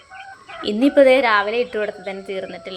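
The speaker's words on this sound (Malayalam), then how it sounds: "അപ്പോഴത്തേക്കും നമ്മുടെ കോഴികളൊക്കെ അവിടെ വന്ന് ഇങ്ങനെ ഹാജരായിട്ട് നിൽക്കുകയാണ്" A flock of backyard hens gathers at feeding time in the morning, clucking loudly and close in overlapping bursts while someone talks over them.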